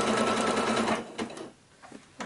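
A sewing machine stitches a quilted Christmas tree skirt, running steadily and loud for about a second, then stopping with a few faint clicks and handling noises before a brief restart.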